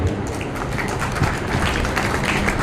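Audience applause at a political party workers' rally in Indirapuram, a dense, steady wash of many hands clapping throughout, fairly loud with a few voices mixed in.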